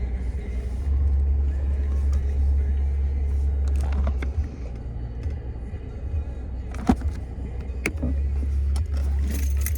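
Cars and engines rumble nearby in a crowded parking area, a low steady drone with a few sharper passing sounds and thumps, close and fairly loud.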